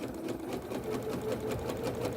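A Janome sewing machine with a rolled hem foot stitching a hem in viscose fabric, a fast, steady mechanical whirr with rapid needle ticks, close and even throughout.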